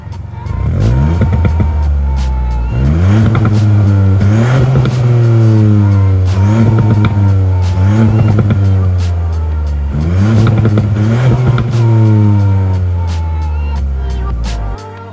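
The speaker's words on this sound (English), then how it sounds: "twin tip bimodal exhaust that sounds amazing and does nice pops and bangs when you're shifting" A 2020 Ford Fiesta ST Mk8 1.5-litre three-cylinder engine with twin-tip bimodal exhaust revs repeatedly in rising and falling sweeps, with sharp crackling pops between revs; loud and close, with no talking.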